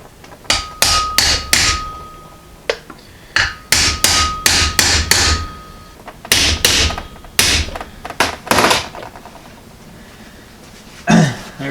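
Sharp metallic hammer strikes on a seal driver seating a seal into a brake hub of a disc brake kit on 1937-1948 Ford spindles, close and loud, coming in irregular bursts of quick blows with short pauses.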